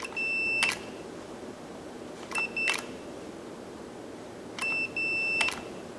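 A continuity tester gives three short electronic beep pairs while checking wiring on a motorized bead roller, each tone clear and close against a quiet workshop background, separated by pauses.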